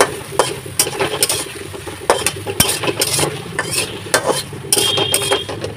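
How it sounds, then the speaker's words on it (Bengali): Sliced onions are stirred and fried in a hot pan, with a steady low sizzle beneath repeated sharp scraping clicks of a spatula against the metal, close and fairly loud throughout. "একটু পেঁয়াজটা দিয়ে একটু নেড়ে ছেড়ে দিই"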